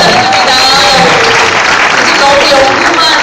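Loud, dense applause from a seated audience at a talk or lecture event, sustained steadily throughout without pause.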